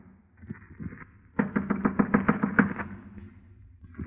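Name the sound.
knock on a door, radio drama sound effect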